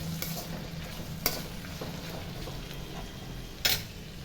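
Onions and green chilies sautéing in a pan for masala dosa filling: a soft continuous sizzle with a few sharp spatula scrapes and clinks against the pan, close and without speech.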